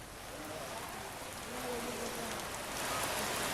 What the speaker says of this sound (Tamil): திருப்பூரில் இரவு முழுவதும் இடியுடன் கூடிய கனமழை பெய்தது